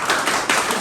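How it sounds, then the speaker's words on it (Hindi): Students in a classroom applaud a teacher with a brief burst of dense, steady clapping that fills the room. "ये कुंजन जी है, इनके लिए बहुत सारी तालियां हो जाए"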